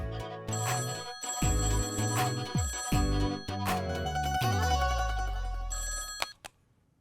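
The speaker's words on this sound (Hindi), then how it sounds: "फोन बज रहा है।" A telephone bell rings loudly in repeated bursts indoors, with short pauses between rings, then stops abruptly near the end.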